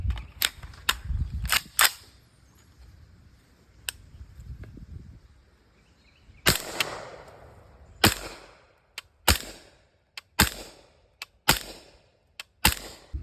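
Suppressed 300 Blackout rifle firing 220 grain Ammo Inc Stealth rounds outdoors: a series of sharp, close cracks, about a dozen shots spaced irregularly, each with a brief fading tail, separated by faint handling noise.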